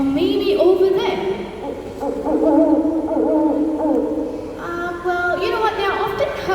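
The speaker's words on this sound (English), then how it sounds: "that was a familiar call of an owl" A series of low, repeated hooting calls from a Malay fish owl at Mandai Bird Park, with chattering sounds mixed in and a higher, brighter call near the end.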